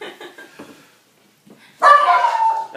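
Dogs bark indoors, a loud burst of barking in the latter half that follows softer muffled sounds and a brief pause.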